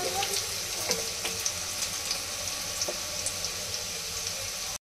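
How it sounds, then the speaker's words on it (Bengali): Potatoes frying in a pan for aloo dum make a soft, continuous sizzle with scattered light crackles and pops, moderately quiet and close, with no talking. "এখন ভাজা হচ্ছে আলু"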